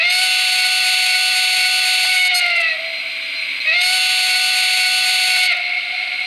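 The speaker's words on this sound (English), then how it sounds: "Let's check the whistle again." A Lionel LionChief Plus 2.0 Santa Fe 0-6-0T toy locomotive sounds its steam whistle through a small, slightly tinny speaker: two long, steady blasts, each bending in pitch at the start and end, with no talk.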